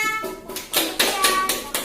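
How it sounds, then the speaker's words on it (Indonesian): A group of children clap together after a storytelling lesson, a brief burst of scattered, uneven hand claps lasting about two seconds. "tepuk tangan semuanya."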